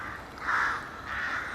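Crows caw in a churchyard, two drawn-out rasping calls at moderate distance over quiet outdoor background.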